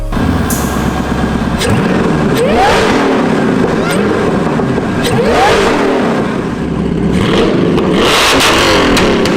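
A fake Lamborghini Diablo replica's engine cranks and catches, then revs up and down in repeated loud surges, with a voice talking over the running motor.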